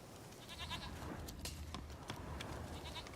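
A goat bleats in The Witcher 3 video game, faint, repeated wavering calls over a low game backdrop, with a few short bursts spread across the brief stretch.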